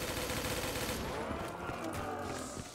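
Dense, rapid gunfire from Mustang pistols rattles through a Call of Duty Black Ops 3 custom zombies match, loud and continuous at first, then thinning into scattered shots and game noise.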